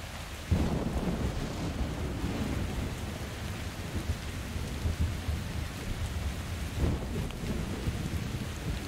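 Heavy storm rain in the video game Metro Exodus roars steadily. A thunder crack hits early, another rumble follows near the end, and wind noise runs under it, with no voices.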